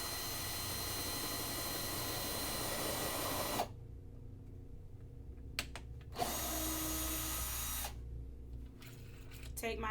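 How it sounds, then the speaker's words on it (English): An electric drill runs in bursts, whirring loudly, stopping, then starting again over steady background noise while a soap box is being built. "So let me put the drill in."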